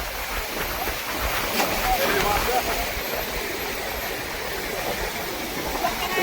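The flooded Bhima river at Pargaon near the Chaufula–Shirur road rushes past in a continuous broad roar of moving water, steady and fairly loud, with a voice faintly present underneath.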